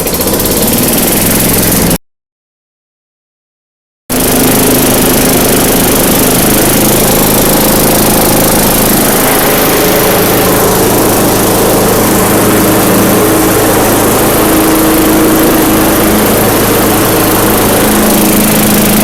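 Craftsman yard vacuum engine starts and runs steadily, a loud, continuous small-engine drone with a buzzy high whine throughout, after a brief silent gap near the start.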